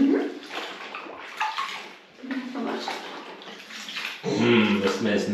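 Water splashes and sloshes in a baby's bathtub, with soft intermittent bursts and a louder stretch near the end, while adults talk gently nearby.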